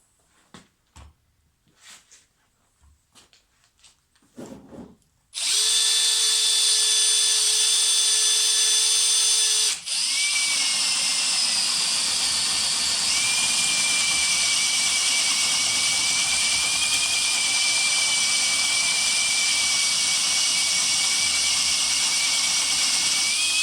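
A Star M No. 5010AT adjustable circle cutter chucked in a drill bores a larger hole at slow speed: soft handling knocks first, then a loud, steady whining grind starts abruptly and runs continuously, dipping briefly once before carrying on to the end.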